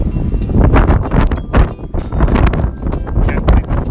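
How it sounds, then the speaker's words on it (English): Gusty wind buffets the microphone on an open upper deck of the Symphony of the Seas cruise ship, giving loud, uneven low rumbling bursts that rise and fall continuously with no talking. "please excuse the noise from the wind"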